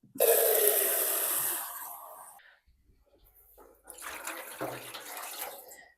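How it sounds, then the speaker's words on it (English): Tap water pours into a dye pan in a strong, splashing rush that fades out, then starts again for a second, slightly softer pour. "So I just added 4 cups of tap water"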